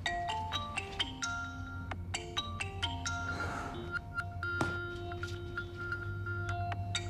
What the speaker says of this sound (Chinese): 干嘛不接电话呀？